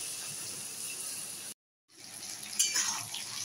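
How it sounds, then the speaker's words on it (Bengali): Fried chicken is stirred into a tomato gravy and braises with a soft, steady hiss and faint bubbling, broken by a brief silence, then resumes slightly louder with light stirring clinks. "এবার এটার মধ্যে আমি ভেজে রাখা মাংসটা দিয়ে দিচ্ছি।"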